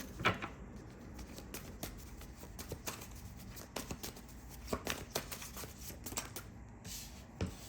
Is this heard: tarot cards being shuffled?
yes